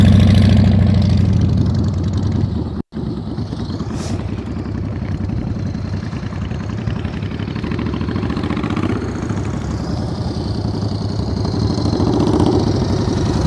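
A motorcycle engine runs at slow riding speed with the throttle held up. It is a steady, loud mid-pitched drone that varies slightly, with one brief dropout partway through. Nobody speaks.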